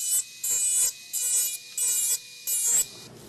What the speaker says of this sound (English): You just keep the burr moving across the thermoplastic material so it doesn't ball up too much